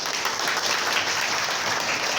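A school audience at a government girls' senior secondary school in Badshahpur, Gurugram claps steadily as a dense, even wash of applause that holds at one level throughout, with no voices over it.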